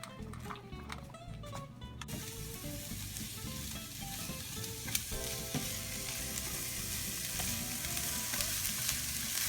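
Onions stir-fry in olive oil in a pan, a loud bright sizzle that swells as they hit the oil and then crackles steadily, with occasional clicks of stirring underneath.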